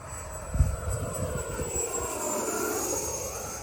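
A steady, throaty whoosh of an FMS Scorpion 90mm RC ducted-fan jet running continuously nearby, with a deeper rumble at the start that settles into a constant drone.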